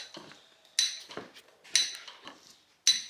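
A loose metal piece on a 1963 Citroen 2CV knocks in sharp, ringing metallic clinks, three distinct strikes spaced about a second apart with softer taps between, close and clear with no talk.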